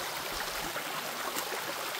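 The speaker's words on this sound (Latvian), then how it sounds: "Lūk, šāda varana strauma veidojas no šiem krāku avotiem." A stream fed by the Krāku springs flows steadily, a continuous close broadband rush of water with no breaks.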